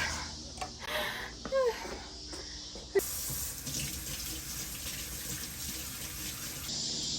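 Water runs steadily from a tap or hose while garden flowers are watered, a continuous gushing hiss that grows louder and brighter partway through, with faint talk and small handling sounds at the start.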